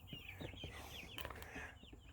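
Several chickens, a mix of hatchery birds, cluck and chirp softly inside a small enclosure, with quick overlapping calls at a moderate distance.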